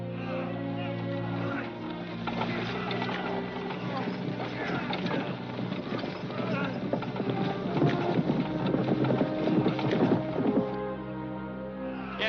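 Horses' hooves clip-clop steadily as a team pulls a wooden wagon. The rhythmic hoofbeats are close and continuous, with a faint outdoor rumble behind them.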